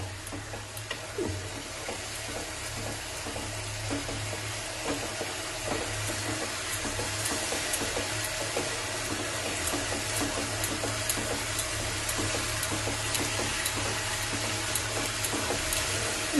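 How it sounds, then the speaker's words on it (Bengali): Masala with garlic being stirred and sautéed in a pan for chitol fish kalia, giving a steady, even sizzle with light scraping that runs unbroken throughout and no voices. "আমি একটু নাড়াচাড়া করব। তিন 4 মিনিট লাগবে এটা একটুখানি কষিয়ে নিতে"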